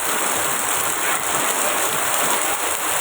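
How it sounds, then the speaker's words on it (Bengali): Heavy rain pouring down in a dense, constant roar, loud and close, with no voices. "দেখেন এত বৃষ্টি হইতেছে"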